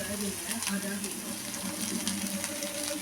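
Something sautés in a pan for tomato chutney, with a continuous, even sizzle and occasional soft stirring taps throughout.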